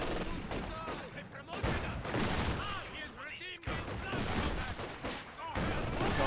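Rifle grenade fire in the World War II strategy game Company of Heroes 2, with dense repeated gunfire and explosive bursts, a commentator talking over the battle.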